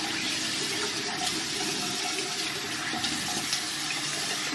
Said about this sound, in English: And I rinse my face with cool water to close my pores back.